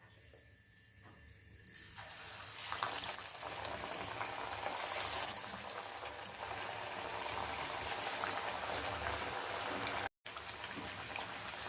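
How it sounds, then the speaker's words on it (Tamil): Masala vadai sizzle and bubble in hot oil. After a quieter start the frying swells into a dense, steady crackle close by, broken by one brief cut near the end, with no talking. "எண்ணெய் சூடாயிடுச்சுங்க. இப்போ வடை தட்டி போட்டுக்கலாம்."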